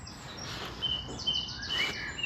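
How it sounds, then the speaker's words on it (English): Several birds chirp and sing in the early morning at a moderate distance in quiet woodland, with high thin calls repeating over soft background air. "Woken up by the birds. Very noisy."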